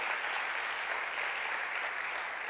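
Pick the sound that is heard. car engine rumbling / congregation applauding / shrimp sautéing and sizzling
congregation applauding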